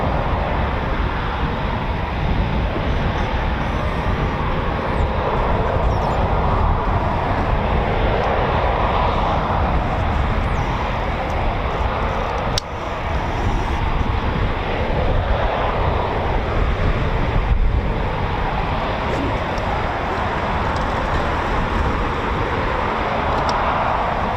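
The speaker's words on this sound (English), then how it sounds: "there will be a high performance takeoff into a loop straight into the display" Eurofighter Typhoon FGR4 jet at RAF Coningsby making a high performance takeoff, a loud, sustained broadband engine roar that stays steady and close throughout with no talk.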